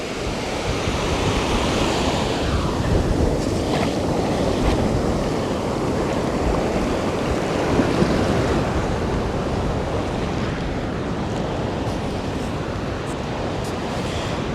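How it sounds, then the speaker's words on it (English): Ocean surf rolling onto a beach on an overcast morning, a continuous loud wash of breaking waves with wind buffeting the microphone throughout, no voices. "But the waves sound awesome."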